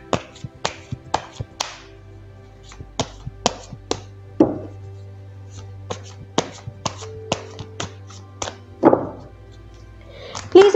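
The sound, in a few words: shuffling tarot cards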